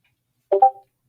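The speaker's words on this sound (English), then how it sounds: "If you hear like a slight meow, that's our cat." A single short, soft meow from a cat, brief and nearby against silence.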